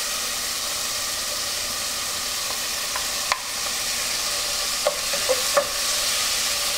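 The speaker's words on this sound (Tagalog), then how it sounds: "Igigisa lang natin itong pork hanggang sa mag-light brown yung kulay nito." Thin-sliced pork sautéing in a pan with softened onion and tomato for pork monggo, a steady soft frying hiss with a few brief stirring clicks and scrapes, close and moderately quiet, no talking.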